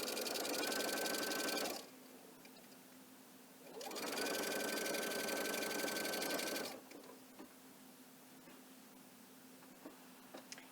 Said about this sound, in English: sewing my binding on